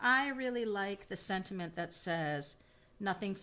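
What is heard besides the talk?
None of the usual background noises is heard.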